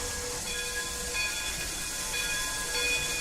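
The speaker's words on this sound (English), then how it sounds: "The train has finally completely arrived" A train in the RO-Scale Sandbox game stands at a station with a continuous broad hiss and faint steady tonal whine, loud and unchanging throughout.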